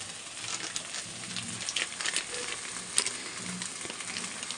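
A bean paste with salt and turmeric is stirred in a frying pan, giving a soft continuous sizzle with scraping stir strokes and a faint spatter at close range.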